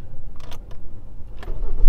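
A car engine starting up, heard as a brief low rumble with a few short mechanical bursts at close range, quiet and over within about two seconds.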